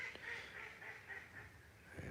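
Ducks quack repeatedly outdoors in the sun, a steady run of nasal calls at moderate distance over faint background noise.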